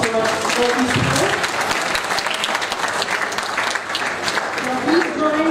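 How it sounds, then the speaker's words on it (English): Steady, dense applause from a national conference audience, sustained and fairly loud throughout with a few voices faintly underneath. "Please give a big round of applause for these people."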